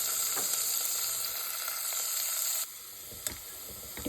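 Onion sizzles in hot oil with ginger, garlic, clove, black peppercorn and asafoetida, a loud, even hiss that drops suddenly partway through and leaves a quieter sizzle with a couple of light knocks.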